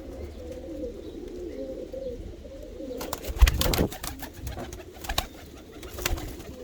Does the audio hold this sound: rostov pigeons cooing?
yes